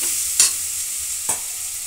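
Masala and chili powder being stirred into vegetable pulao in a pan, a soft sizzling hiss with two short scraping strokes of a spoon, close and clear.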